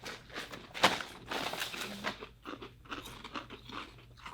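Trader Joe's ghost pepper lattice-cut potato chips crunch loudly between the teeth, with a sharp bite followed by a run of close chewing crunches.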